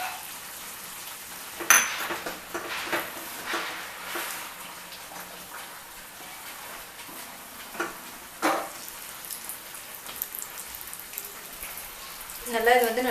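Cashews and raisins fry in hot ghee, giving a soft crackling sizzle with scattered pops and a few clinks of a utensil against the pan.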